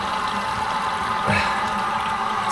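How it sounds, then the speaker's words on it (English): Water runs steadily from a newly installed kitchen faucet into a bucket, a constant close hiss and rush with a brief swell of splashing midway and no talking. "let's turn the faucet on and see if it leaks again."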